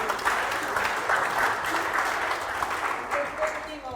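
Sustained applause from an audience at a school social-project awards ceremony, steady dense clapping that fills the whole stretch with no break.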